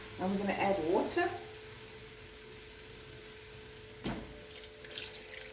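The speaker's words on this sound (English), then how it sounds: "Okay, now we're going to add water." Water is poured into a pot of frying tomato bredie, a loud gushing hiss at the start that fades back to a low sizzle, followed by a single clunk and some faint stirring.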